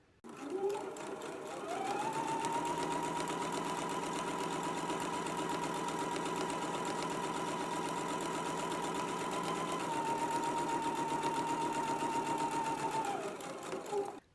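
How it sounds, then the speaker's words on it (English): A sewing machine runs steadily through a straight quarter-inch seam stitch on fabric for a French seam, starting after a short pause and keeping an even, close mechanical whirr for about twelve seconds before stopping, with no talk. "Now we can go back to the sewing machine."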